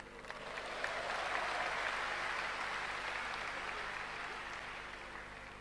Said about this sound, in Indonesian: Kok langsung tepuk tangan?